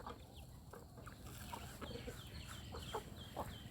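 Farmyard village chickens cluck in short, scattered calls at moderate distance over a steady low rumble of background noise, with several brief clucks clustered toward the end.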